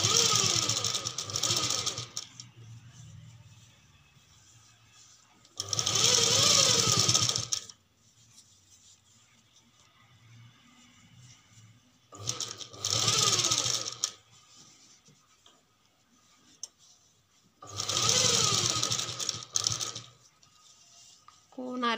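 Sewing machine stitching a binding strip onto a boatneck blouse in four separate bursts of rapid mechanical whirring and clatter, close and loud, with quiet pauses between them while someone speaks.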